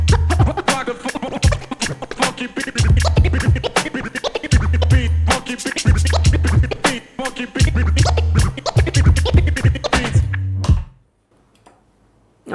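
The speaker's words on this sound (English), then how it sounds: "The first way in which I was performing Aquamans on vocal phrases was to start chirping and then from the chirps move into an Aquaman" Rapid turntable scratching of a vocal phrase, cutting in with chirps and moving into Aquaman scratches over a thumping, looping beat. The scratches are loud and dense, then everything stops abruptly into near silence at the end.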